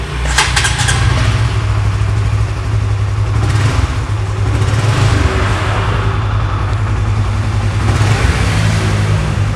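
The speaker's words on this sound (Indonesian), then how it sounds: "Suaranya itu mirip CBR, cuman dengan RPM yang lebih rendah" An engine on a used motorcycle runs loud and close, with a steady idle broken by a few rises in revs and a brief rattle at the start.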